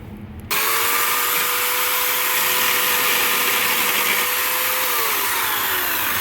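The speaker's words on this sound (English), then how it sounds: "This is electric chainsaw." A small, cheap corded electric chainsaw cutting into drywall during a repair starts abruptly and then runs as a loud, steady motor whine with a sustained tone and rough buzz, dipping slightly near the end.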